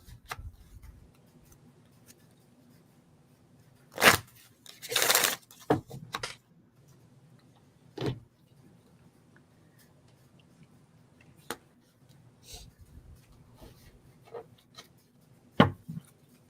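Oracle cards being shuffled in short papery bursts, a few quick riffles and taps separated by quiet pauses, close and fairly soft.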